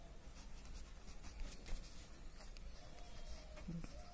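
Pen or pencil writing on paper during a class 8 mathematics lesson, a steady soft scratching that continues through the whole stretch, close and fairly quiet, with no talk over it.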